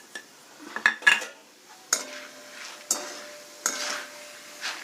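Roasted gram lands in a metal pan for frying, followed by a few sharp clinks and scrapes of a spoon against the pan, spaced about a second apart, with a faint sizzle between.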